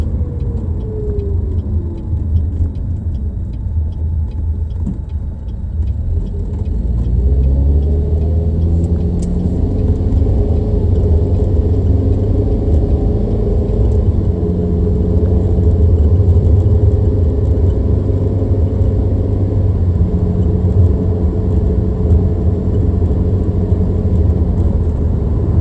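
A Pontiac Solstice GXP drives along after a rear differential swap, its engine rumbling loud and steady, pitch rising and falling with acceleration and gear changes.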